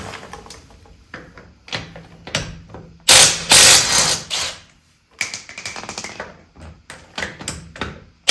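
Ratchet wrench loosening stock 13/16 lug nuts on the rear wheel of a Nissan 350Z, rapid clicking bursts and metallic taps close up, with a louder sustained spell of ratcheting in the middle.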